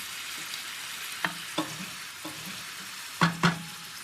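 Butter, about one and a half tablespoons, melts and sizzles in a hot pan of cooked carrots, making a steady soft frying hiss broken by a few sharp clicks and scrapes of a utensil against the pan. No voices are heard.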